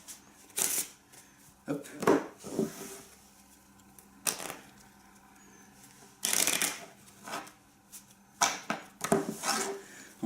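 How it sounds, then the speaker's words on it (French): A deck of playing cards is shuffled by hand in several separate bursts of quick riffling and snapping, close by with short pauses between, and a brief spoken word between bursts. "Je vais lui demander ensuite de mélanger le paquet."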